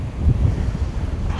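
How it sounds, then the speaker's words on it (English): Strong wind buffeting the microphone while metal detecting, a low rumbling roar that gusts and swells across the short stretch with no voices. "Very, very windy, as you can see from the Manticore shaking."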